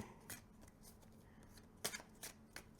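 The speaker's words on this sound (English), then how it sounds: "probably to avoid any stickiness when doing this hand-to-hand shuffle" Soft papery flicks and riffles of a 40-card Lenormand deck being shuffled hand to hand, a few quick bursts close by in a quiet room.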